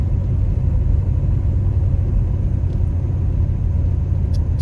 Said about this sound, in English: so y'all can see me driving the car